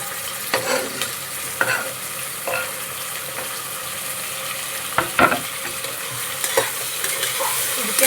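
Tomatoes frying in a pan for bread pulao give a steady sizzle, broken by intermittent clicks and scrapes of a spoon stirring against the pan.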